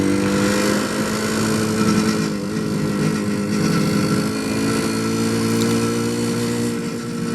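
A classic motorcycle's engine drones steadily and close on a twisty road along Loch Ness, holding a continuous hum with slight shifts in pitch as it rides through the bends.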